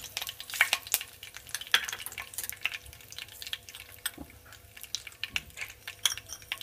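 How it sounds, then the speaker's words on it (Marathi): Mustard seeds hit hot oil and pop in a rapid, uneven scatter of small crackles and sizzles, moderately close and fairly quiet, with no talking. "आता टाकते मोहरी"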